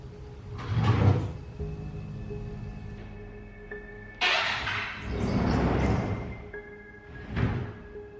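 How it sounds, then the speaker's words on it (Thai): A drawer slides open by itself during a ghost investigation, heard as several separate scraping, rumbling bursts spread across the stretch, fairly close, with no talking. "มีลิ้นชักที่มันได้ฝืนตัวออกมาโดยอัตโนมัติ"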